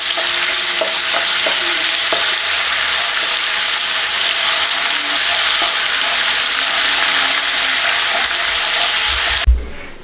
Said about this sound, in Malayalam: ഈ ഇഞ്ചി വെളുത്തുള്ളി പേസ്റ്റ് നന്നായിട്ടൊന്ന് നമുക്ക് മൂപ്പിച്ചെടുക്കാം